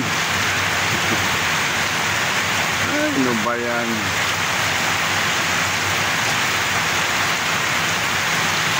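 Steady rain falls hard during a fishing outing, a dense continuous hiss that fills the whole stretch, while a voice briefly speaks over it.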